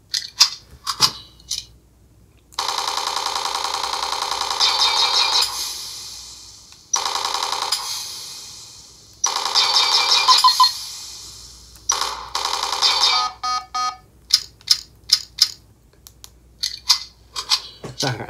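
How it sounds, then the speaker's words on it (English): Reload effect of a TRamp Mandalorian toy blaster, a series of electronic buzzing tones in long bursts separated by pauses, ending in a run of short clicking pulses, loud and close. "Then to reload, you just press the auxiliary."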